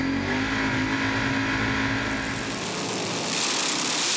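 Doorslammer drag racing cars roaring down the strip at Calder Park, a loud sustained engine blare heard from trackside with a rising, brightening tone toward the end.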